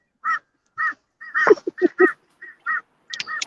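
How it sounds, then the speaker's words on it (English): Crows cawing outdoors, a series of short harsh caws repeated at irregular intervals, fairly close and clear with no talk over them. "I hear crows."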